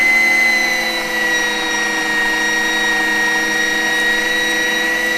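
An electric meat grinder runs steadily, pushing long strips of venison with a little added fat through for burger meat, with a loud continuous motor whine and a steady high pitch and no pauses.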